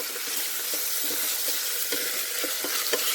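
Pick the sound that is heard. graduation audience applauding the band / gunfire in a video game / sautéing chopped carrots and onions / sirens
sautéing chopped carrots and onions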